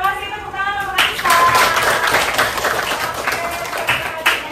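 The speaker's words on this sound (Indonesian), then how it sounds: "terima kasih tepuk tangan untuk Anissa" Sixth-grade students clap together in a classroom during a Pancasila lesson, a brisk, loud burst of close hand claps that starts right after a short spoken phrase and continues steadily for several seconds.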